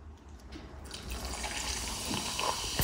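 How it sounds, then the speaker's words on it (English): A fizzy drink is poured over a glass of ice cubes, starting quietly and building into a steady splashing, hissing fizz with light crackles as the glass fills. "A fizzy drink being poured over a glass of ice cubes makes a crackling noise and produces an explosion of fizziness"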